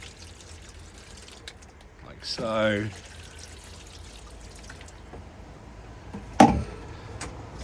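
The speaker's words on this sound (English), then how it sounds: "I add some water to the trays" Water is poured briefly into pepper seedling trays set on grow mats, a short trickling splash followed by a sharp knock of handling, with a voice speaking quietly near the end.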